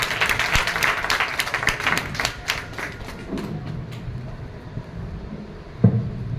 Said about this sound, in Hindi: तालियों का शोर कम नहीं होना चाहिए।